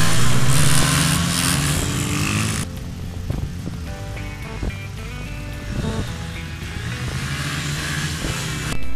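A pair of stock Honda CRF100 dirt bikes race together, their small engines buzzing and revving loudly and continuously at close range, with the pitch rising and falling as they accelerate and shift.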